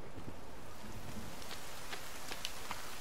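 Rainfall in the survival video game The Forest, a soft continuous patter with scattered drop ticks and a faint wind-like wash, quiet and steady with no talking.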